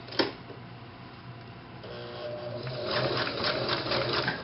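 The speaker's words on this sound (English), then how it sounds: "I sew this together with a zigzag stitch for a little more security" A sewing machine zigzag-stitches a seam on small ruffle pants, starting with a click and then building into a rapid, rattling run of stitches that grows louder near the end.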